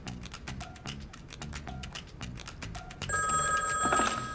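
A telephone bell rings repeatedly in a steady rhythm of short bursts, then gives way to a denser, brighter electronic tone near the end, clear and close with no talking.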